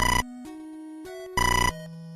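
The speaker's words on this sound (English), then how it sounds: "the phone rings" A chiptune telephone rings in the NES-era video game EarthBound Beginnings: two loud, buzzy ringing bursts separated by a plain, steady melody of stepped tones.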